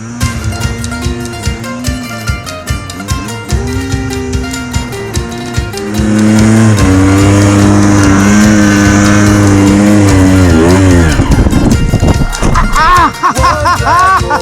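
Dirt bike ridden across the frozen Blue Mesa Reservoir, its engine revving and rising in pitch as it accelerates, loud and close, mixed with wind noise and a rider's excited voice.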